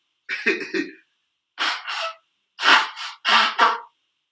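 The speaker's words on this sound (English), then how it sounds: "Let me blow my nose." Several short, forceful bursts of breath through the nose, coming in quick pairs with brief pauses between them, close and fairly loud.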